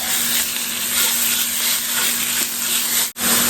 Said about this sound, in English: Put your sausage in and hear that sizzle.